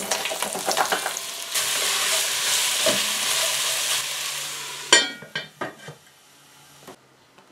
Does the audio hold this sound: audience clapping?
no